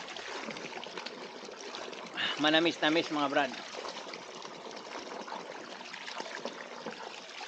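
Natural spring water at Bunot Lake trickles in a steady, close wash that runs the whole time, with someone talking over it briefly in the middle.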